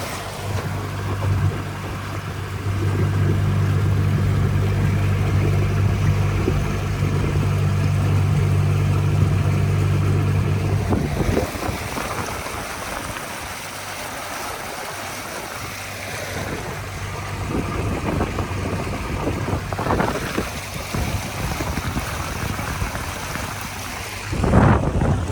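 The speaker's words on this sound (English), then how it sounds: "Alright, it's cruising at 3 k's an hour" A Torqeedo electric outboard motor cruises upstream on a river at about 3 km/h, a steady low hum with water lapping against the hull, then quieter wash and splashing in the second half.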